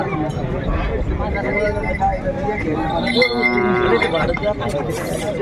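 A bull lows once at a busy cattle market in Mahalgaon. The call rises loud and close over constant crowd chatter and occasional metallic clinks.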